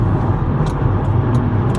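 Steady, loud rumble of a car driving, its engine and road noise filling the cabin continuously with no pauses, after a transmission fault kept it parked for years.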